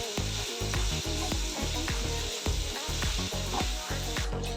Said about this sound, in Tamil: இந்த மட்டன் நல்லா வதங்கட்டும். இப்போ இந்த எண்ணெயிலேயே நம்ம ஒரு 1/2 to 3/4 நம்ம 3/4 நம்ம வறுத்து எடுத்துடணும்.